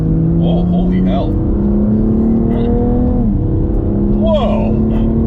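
A 2020 BMW M2 Competition in sport mode revving hard, its engine note sweeping up in pitch through several rising pulls, close and loud, with people talking excitedly over it.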